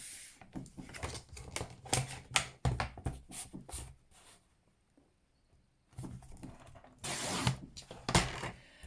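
Stampin' Up designer series paper being trimmed on a paper trimmer, a run of quick scraping slides and taps at close range with a brief quiet gap before more cutting strokes.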